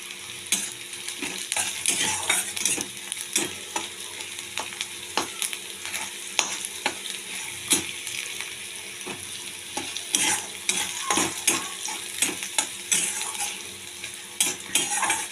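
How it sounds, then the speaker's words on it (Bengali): Eggplant fries in a pan with a steady broadband sizzle, broken by frequent sharp clicks and scrapes of a utensil stirring against the pan, close and continuous with no talk. "একটু লাল লাল করে আমি এটা ভেজে নেব"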